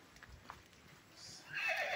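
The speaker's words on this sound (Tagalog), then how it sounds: "May kabayo." A horse whinnies on a flat farm lot planted with lansones trees in Nagcarlan, Laguna, the neigh rising clearly toward the end over faint outdoor background noise.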